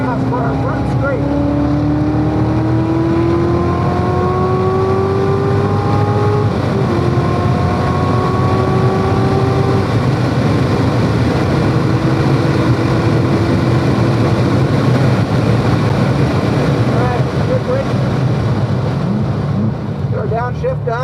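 Race car at VIR accelerating onto the front straight, a loud in-cabin engine note rising in pitch through gears under heavy wind buffeting, with a driver speaking over it.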